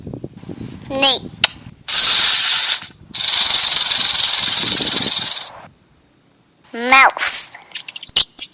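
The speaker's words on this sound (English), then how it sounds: "Snake." A snake hisses twice in loud, breathy bursts, a short one followed by a longer drawn-out one, with brief voices before and after.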